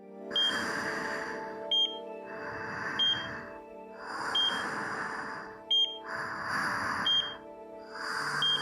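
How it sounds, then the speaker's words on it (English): A machine in the visual novel Chaos;Child beeps in a regular repeating pattern, short electronic tones recurring about every one and a half seconds over soft, swelling ambient music, with no voices. "The machine was beeping."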